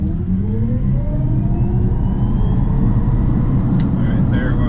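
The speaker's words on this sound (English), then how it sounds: "Alright, we're going to do a 0 to 60 test here." A Tesla electric car accelerates hard from 0 to 60, a loud, steady rush of road and wind noise carrying a thin motor whine that climbs in pitch throughout.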